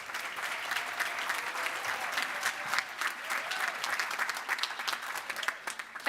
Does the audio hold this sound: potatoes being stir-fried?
no